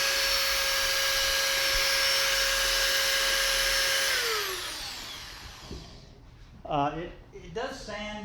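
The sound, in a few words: WEN belt sander running at maximum speed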